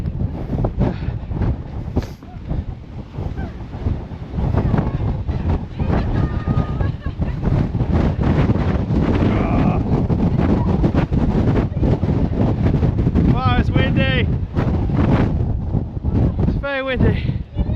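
Heavy wind roars across the exposed summit of Arthur's Seat in Edinburgh, a continuous loud low rumble of microphone buffeting with a few short voices breaking through.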